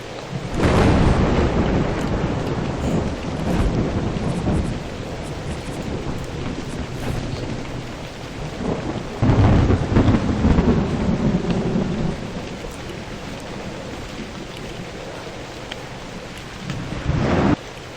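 Thunderstorm in the video game Novus Inceptio: loud rolling thunder rumbles over a steady wash of heavy rain and some wind, with several booming swells across the stretch and no talking.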